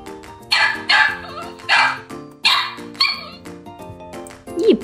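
A voice imitates puppies with high, bright yips, several short yapping bursts in an irregular rhythm, close and fairly loud.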